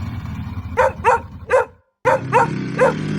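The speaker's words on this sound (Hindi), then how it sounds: "कहीं दूर कुत्तों के भौंकने की आवाज।" Dogs barking in two bursts of three, echoing and somewhat distant over a low rumbling background, with a brief silent gap between.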